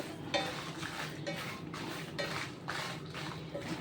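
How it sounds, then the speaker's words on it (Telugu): Peanuts and dried red chillies dry roasting in a pan without oil make rhythmic scraping and clinking as a spatula stirs them, with repeated strokes close up and a soft background hiss. "ఇలా మనకి పల్లీలు వేగిన తర్వాత ఇందులో మనం తీసుకున్న ఎండుమిర్చి వేసుకున్నాం మనం ఈరోజు వేసుకునేవన్నీ కూడా డ్రై రోస్ట్ చేసుకుంటున్నాం ఆయిల్ వేయట్లేదు"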